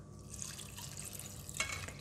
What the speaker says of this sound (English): Add in the rest of the water.